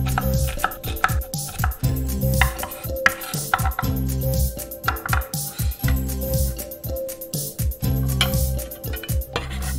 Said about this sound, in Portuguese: E para picar, é só seguir os veios da cebola nesse corte longitudinal.